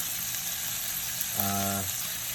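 Asparagus sizzles in a hot pan after duck breast has been seared in it; a steady frying hiss runs throughout, with a brief buzzing tone partway through.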